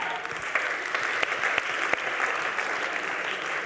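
A studio audience at a humour show breaks into sustained, even applause, a dense patter of clapping that carries on at moderate volume for the whole stretch.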